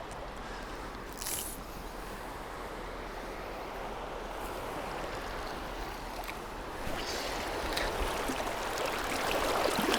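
Strong current of the River Tyne rushes steadily past, a broadband watery roar close by that swells slightly louder toward the end, with no talking.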